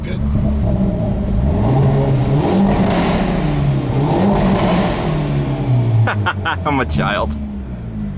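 A 2021 Hyundai Veloster N with a manual gearbox revs its engine in a steady drone throughout, with a quick burst of sharp exhaust pops near the end, heard from inside the car while people talk over it.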